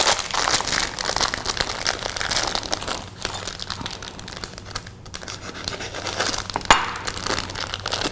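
A packet of semi-sweet chocolate being torn open in a kitchen, with continuous close crinkling and crackling of the wrapper plus short tearing rips and one sharper snap near the end.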